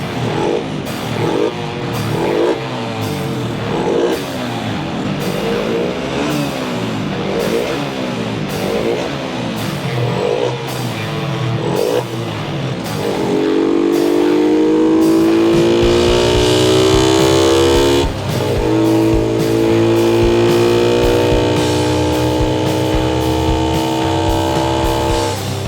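A modified LC135 motorcycle engine revs up and down in repeated rising and falling sweeps, loud and close, then settles into a higher sustained drone in the second half.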